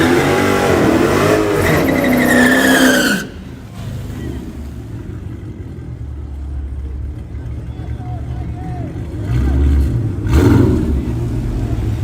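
A powerful Hellcat engine in a truck on slicks revs loudly at close range at a street drag track, then drops to a lower rumbling idle before surging again, with people talking over it.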